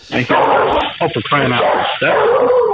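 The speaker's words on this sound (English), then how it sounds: "That's the dog." A dog barks and yips indoors during a podcast recording, sharp repeated barks mixed with people talking close by.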